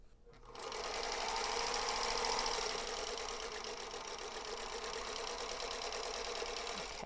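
A sewing machine stitches a scant quarter-inch seam on a quilt block, its motor ramping up and then whirring in a steady, fast mechanical hum with a rapid needle chatter, close and continuous with no talking.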